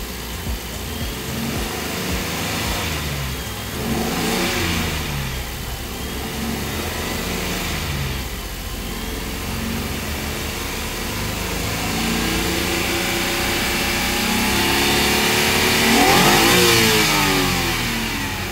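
A Suzuki DA17V 4x4 van with tiptronic transmission revs its engine close by, rising and falling through several loud throttle blips with a rising pitch sweep near the end.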